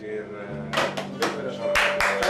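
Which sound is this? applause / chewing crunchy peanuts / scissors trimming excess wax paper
applause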